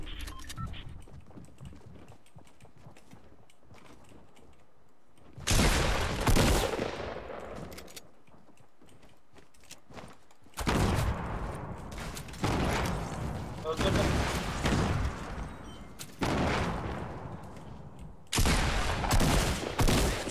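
Bursts of gunfire in Fortnite Battle Royale, several loud volleys of rapid shots spaced across the stretch with quieter gaps between, close and sharp, while a player talks faintly at times.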